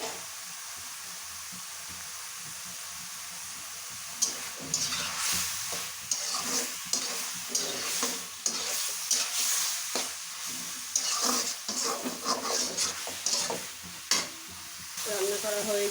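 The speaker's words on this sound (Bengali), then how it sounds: "শাকটা শুকিয়ে নিচ্ছি" Spinach stir-frying in a pan, a steady sizzle and hiss with repeated scraping stirs that grow busier after the first few seconds, close and moderately loud with no talking.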